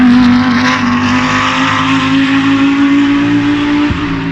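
An Audi R8 GT3 Evo race car runs at Bira Circuit in Pattaya, its engine a loud, sustained high drone with a steady pitch, close by throughout and dipping briefly near the end.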